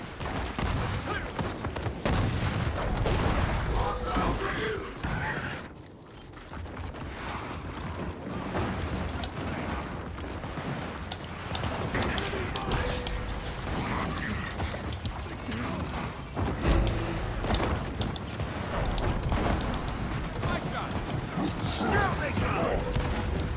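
Rapid gunfire and mechanical clatter fill a video game battle on Raven Down, dense and continuous, with a person talking over the shooting at times.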